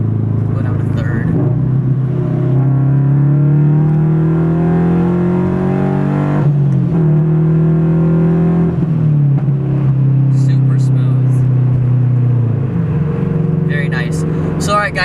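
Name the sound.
Subaru BRZ engine revving while shifting through the gears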